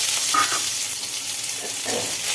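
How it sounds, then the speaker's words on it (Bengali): Pieces of pointed gourd (potol) fry in hot oil, giving a loud, continuous sizzling hiss with a few stirring scrapes and no speech. "তেলের মধ্যে তেল গরম হওয়ার পরে তেলের মধ্যে পটলগুলো দিয়ে দেওয়া হলো"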